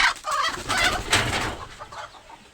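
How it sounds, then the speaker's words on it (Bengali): Broody hen clucking, a run of fairly loud, close vocal calls over a low rumbling background for a couple of seconds. "এই মুরগিটা কুচে বসছে, দেখেন কেমন করতেছে"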